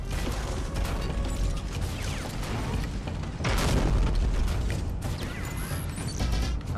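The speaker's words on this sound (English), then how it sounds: "Hook shot up." A grappling hook shot in Shadow Complex, heard as mechanical clanking and ratcheting amid dense, loud game noise and layered effects, with a surge partway through.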